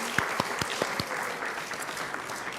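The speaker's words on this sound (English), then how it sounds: "one more round of applause" An audience at a school board meeting applauds with a steady, moderately distant wash of clapping, and a few sharper individual claps stand out near the start.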